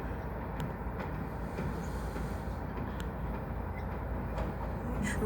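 A Norfolk Southern freight train moves slowly through a rail yard with its lead units picking up three cars, giving a steady low rumble with faint occasional clanks at a moderate distance and no talk.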